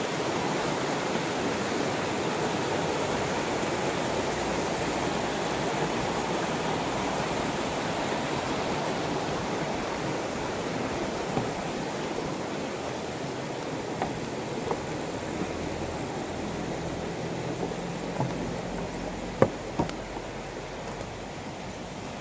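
Stream flowing beside a campsite in Real Quezon, a steady broadband rush of running water that continues unbroken, with a few faint clicks near the end.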